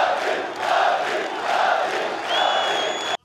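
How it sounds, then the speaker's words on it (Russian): A stadium crowd at Anzhi Arena roars in ovation for UFC champion Khabib Nurmagomedov, a loud sustained mass of cheering voices swelling in waves, with a whistle cutting through near the end. "На стадионе Хабиба встретили овациями."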